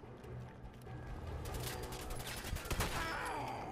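Fallout 4 gunfire comes as a quiet burst of rapid shots with dense crackling reports and a sharper crack near the end, heard at low level.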